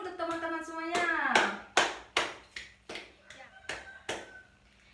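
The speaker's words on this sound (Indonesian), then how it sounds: "Tepuk tangan dulu untuk teman-teman semuanya." Students in a classroom clap their hands in a series of about eight sharp, fairly rhythmic claps that start right after a voice and slowly fade.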